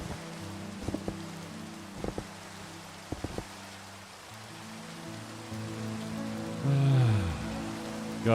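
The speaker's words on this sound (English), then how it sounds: "God love the rain." Steady rain patters across a Minecraft world, a soft continuous hiss carrying on throughout, with a few short knocks near the start and a brief louder rushing swell toward the end.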